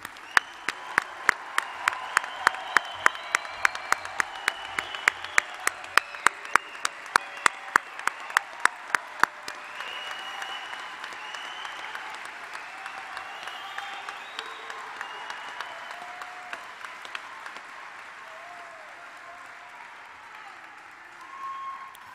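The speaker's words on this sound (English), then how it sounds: "Let's have a final round of applause for all of our 2021 graduates." A large audience at a 2021 college pre-commencement ceremony bursts into sustained applause, with sharp individual claps standing out at first before the clapping thins out and fades over about twenty seconds.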